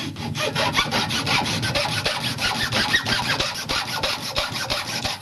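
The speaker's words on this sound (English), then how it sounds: "a hacksaw blade will do to make the slit. And you cut a slit neatly down the middle of the end of the stick" A hacksaw blade cuts a slit down the middle of the end of a wooden stick, with close, steady back-and-forth rasping strokes in a quick continuous rhythm and no talking.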